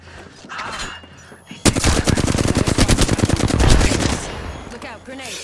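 Automatic weapon fire in a video game erupts suddenly into a long, loud rapid burst of closely spaced shots lasting over two seconds, then fades to quieter background game noise.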